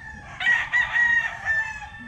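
Roosters crow at a gamefowl farm, with a clear, fairly close call broken into several bursts over about two seconds.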